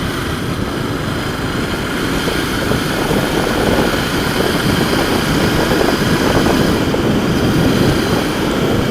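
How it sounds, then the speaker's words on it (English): Steady exhaust rumble from a Royal Enfield 650 Interceptor motorcycle while riding, a continuous low engine note with wind noise swelling slightly midway, no talking. "just listening to the exhaust note, it's nice."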